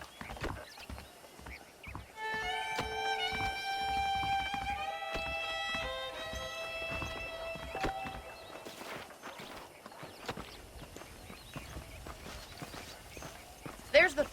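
Horse hooves clip-clop in the Red Dead Redemption video game. The steady, close hoofbeats come under a man's speech and tonal background music, with a brief whinny.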